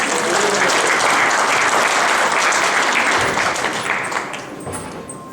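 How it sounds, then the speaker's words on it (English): Audience at a live party show applauding a volunteer from the crowd, a dense burst of clapping that holds strong and then tapers off toward the end. "A round of applause for Dan."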